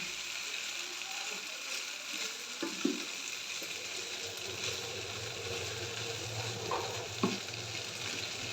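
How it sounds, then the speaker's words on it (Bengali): Chopped onions and chillies sizzle steadily in a hot pan for spicy pasta, with a continuous frying hiss and occasional scraping clicks as a spoon stirs them; no one speaks. "ভালো করে পেঁয়াজ মরিচগুলো এটার সঙ্গে এটা একদম মিশিয়ে দিলাম"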